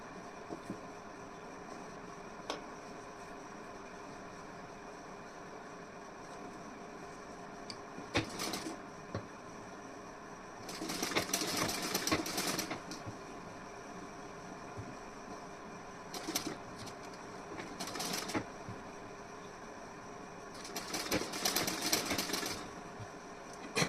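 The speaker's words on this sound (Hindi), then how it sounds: "इसके बाद आपको इस पर स्टिचिंग कर देनी है।" A sewing machine stitching a designer neckline on fabric runs in short intermittent bursts, with longer runs near the middle and the end, and quiet pauses between them.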